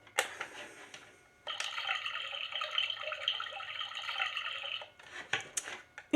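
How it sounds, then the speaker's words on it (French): Soft running-water sound played by a Kid Sleep My Lantern children's night light, a steady gentle trickle lasting a few seconds between quiet clicks and handling noises. "le bruit de l'eau"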